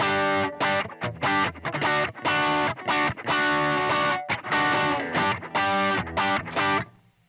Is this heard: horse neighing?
no